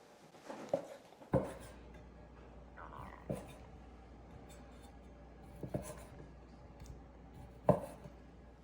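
A knife cuts turkey sausage into one-inch slices on a board, making a few sparse, soft taps and thuds spaced through an otherwise quiet stretch.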